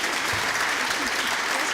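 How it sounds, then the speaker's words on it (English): Audience applause at a master's graduation ceremony, a dense, steady wash of clapping that stays loud and even from start to finish. "you may clap or applaud"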